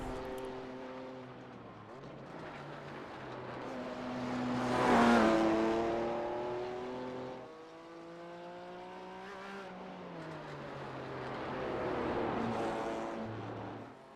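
A GTP prototype race car in the iRacing game laps the Nordschleife, its engine revving up through the gears with sharp pitch climbs and drops on upshifts, swelling loud around two acceleration peaks, with no voices.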